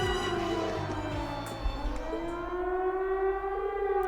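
Siren wailing from a fort in the video game Trails of Cold Steel, a loud sustained rising-and-falling civil-defense-style tone, alone without talk.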